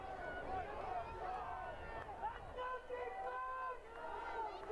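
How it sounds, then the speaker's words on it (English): The home crowd at a Lakewood versus Bear Creek high school football game at Jeffco Stadium makes a distant, steady murmur and cheer beneath someone speaking throughout. "Lakewood crowd making some noise."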